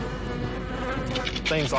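A dense swarm of flies buzzing inside an abandoned store's aisles among rotting produce, a steady close droning hum that swells louder near the end.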